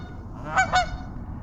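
Two loud, close honks from Canada geese swimming on the Columbia River, coming in quick succession with a brief gap between them over quiet background noise.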